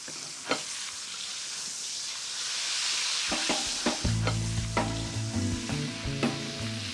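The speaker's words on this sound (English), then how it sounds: "all the sizzle." Food sizzling and frying in a hot pan with the heat being turned off, a steady close crackle broken by several sharp clinks and scrapes of a utensil stirring against the pan.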